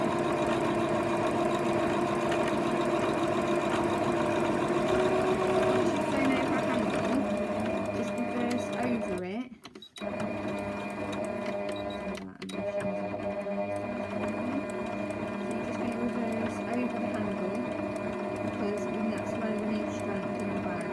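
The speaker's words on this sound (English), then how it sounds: "we're going to sew a line across here" A sewing machine runs steadily while stitching a line across a fabric tote bag, its motor hum continuous and close, pausing briefly twice before resuming.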